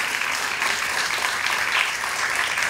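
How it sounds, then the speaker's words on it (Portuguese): Audience applause at a hypnosis stage show, a dense, steady wash of many hands clapping that holds fairly loud and even throughout, with no voices standing out. "Agora, uma salva de palmas para os astros de hoje."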